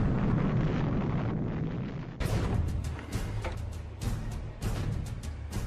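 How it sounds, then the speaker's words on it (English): The Father of All Bombs detonates in a long, deep roaring blast, followed by a sustained rumble and sharp crackling bursts, heavy and booming throughout. "imagine their reaction to the detonation of the father of all bombs"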